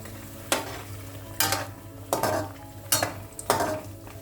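Bread pakavada in chickpea-flour batter fries in hot oil under a low steady sizzle, cut by five sharp clinks and scrapes of a utensil against the pan at uneven intervals, close by and with no talking.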